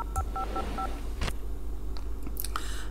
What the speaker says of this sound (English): let's get Seema to call service